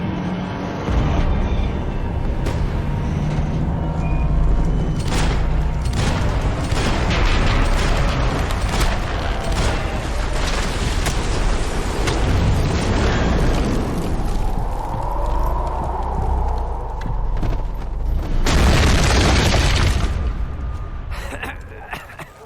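Max Payne 3 game action: repeated gunshots and heavy booming explosions crack out in irregular bursts, with shouted voices and a whooshing blast near the end.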